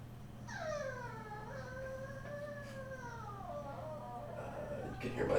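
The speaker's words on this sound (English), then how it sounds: "You can hear my dog crying" A dog cries and whines in long, wavering high-pitched howls that rise and fall over several seconds, carried over a steady low hum in a quiet indoor room.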